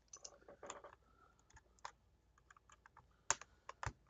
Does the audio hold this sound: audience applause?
no